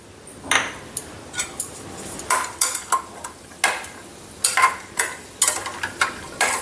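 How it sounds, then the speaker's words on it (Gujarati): Dry fruits are stirred in hot ghee in a pan, giving a series of sharp scraping and clinking strokes with a faint sizzle underneath, close and moderately quiet, with no talk. "ઘી ગરમ થઈ ગયું છે તો હવે આપણે ડ્રાયફ્રૂટને થોડા સાતળી લઈશું ઘીમાં"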